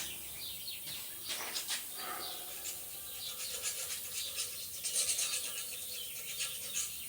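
Holes in the casing of a Bolens tube frame rototiller are cleaned with a hand file, giving quiet, irregular scraping and rasping strokes in short bursts.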